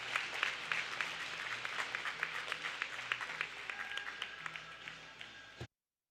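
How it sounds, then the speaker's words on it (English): Crowd at a high school ice hockey game applauding an injured skater as he leaves the ice, a steady wash of clapping that continues evenly and then cuts off abruptly. "Much applause for the Bearcat skater as he slowly skates off the ice."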